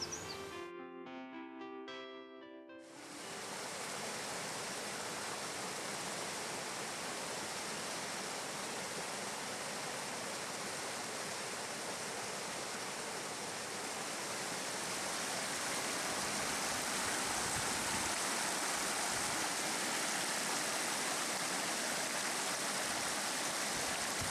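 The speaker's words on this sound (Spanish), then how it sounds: "El arroyo se vuelve más rápido debido a un relieve más abrupto" A fast-flowing stream beside a watermill in Ávila rushes steadily and loudly, a dense unbroken wash of water that swells slightly toward the end after a brief musical opening.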